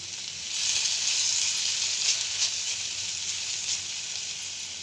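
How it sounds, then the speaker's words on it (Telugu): Sliced onions and tomatoes sizzle steadily in a hot pan while a Telugu green-leaf chutney is cooked, giving a close, continuous bright hiss with no one talking. "ఎర్రగడ్డలు టమాటాలు మగ్గాయి"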